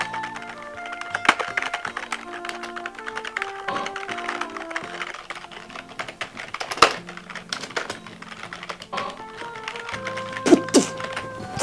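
Keyboard typing from the dating mini game of an Evangelion video game, a run of quick tapping keystrokes over a steady game music track with synth tones, moderately loud and without speech.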